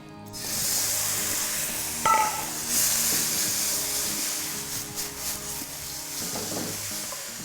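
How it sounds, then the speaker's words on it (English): Steady hissing sizzle of rendang spice paste frying in hot oil in a wok, loud and continuous, with occasional clinks and stirring scrapes; no talking. "with every sort of wok sort of work, it needs to sizzle."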